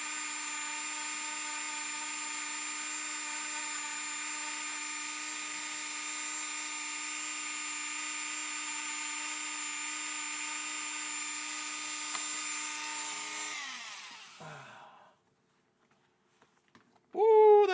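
A Dremel rotary tool runs at a steady high-pitched whine for most of the stretch, then winds down and stops, leaving near silence before brief faint clicks and a sudden loud burst at the very end.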